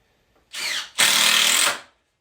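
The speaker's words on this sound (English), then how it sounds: "I'm just going to tack it together with just 4 screws" A power drill drives screws to tack exterior wall framing together, heard as two close, loud whirring bursts: a short one followed by a longer, steadier run.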